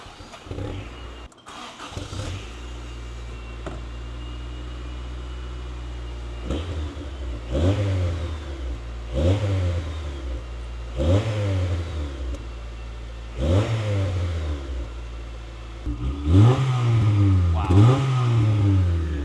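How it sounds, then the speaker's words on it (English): A 1989 Honda CRX Si in Barbados Yellow cranks and fires up, then settles into an idle broken by about seven sharp throttle blips, its exhaust rasping loudly and close by between steady idle stretches. "that's a very good sounding exhaust right there"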